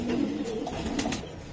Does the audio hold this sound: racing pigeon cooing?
yes